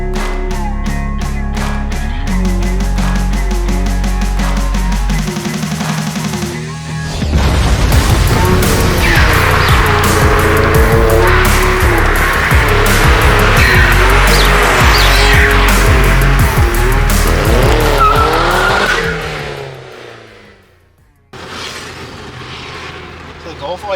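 A VW Polo known as Mr Retro revs, then is driven hard with loud squealing tires and a roaring engine that climbs and falls before cutting off near the end.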